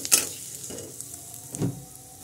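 Sliced onions frying in a small amount of oil for beresta, a soft sizzle broken by a few close stirring scrapes and clinks.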